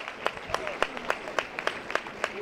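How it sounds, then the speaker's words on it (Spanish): Scattered handclaps from a small outdoor crowd of neighbours in a street during a Holy Tuesday procession in Antequera, Spain, uneven and sparse, with a soft murmur of voices underneath. "Aplauso de los vecinos del barrio de la Trinidad al señor de rescate."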